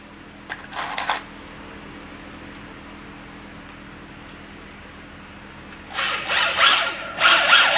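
A power drill drives screws into 2x4 lumber while a chicken brooder coop is built, giving a short whirring burst near the start and then several louder, closer drilling runs near the end, with a quiet stretch between them.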